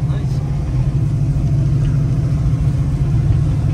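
A steady, low V8 exhaust rumble from a 1973 Ford Mustang Mach 1 with a 351 Cobra Jet engine cruising along, with a constant drone and no distinct revs.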